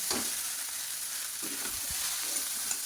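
Chow mein with soy sauce and tomato sauce being stirred in a pan, giving a steady, soft frying hiss with a few faint scraping stirs throughout, no voices.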